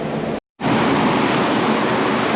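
Electric fan running in a hot garage, a loud steady broadband whoosh close to the microphone, briefly cut off by a short gap of silence before resuming evenly, with no talking.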